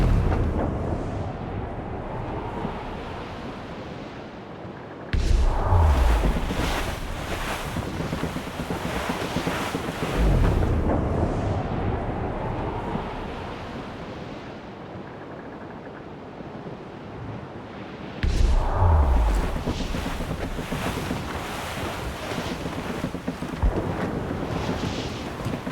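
Wind sweeping over open ocean in the Assassin's Creed Rogue video game: a loud, continuous roar with surging gusts and low rumbling swells every few seconds, and no voices.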